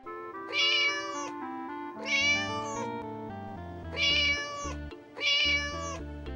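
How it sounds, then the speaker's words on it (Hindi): A cat meows four times in a row, loud and close, each call drawn out and tonal with short pauses between them. "रास्ते में उसे एक बिल्ली दिखाई देती है।"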